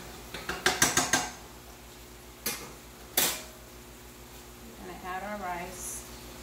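Rice goes into a pan for fiesta sausage rice with a quick run of sharp clicks and rattles, then two louder clanks, and a voice speaks briefly near the end.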